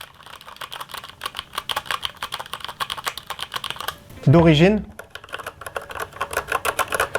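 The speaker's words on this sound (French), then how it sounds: "Je vais vous faire écouter en comparaison le Makalu 67." Rapid, steady clacking of keys on a Makalu 67 mechanical keyboard with lubricated MX Red switches, close up, with someone speaking briefly in the middle before the typing resumes.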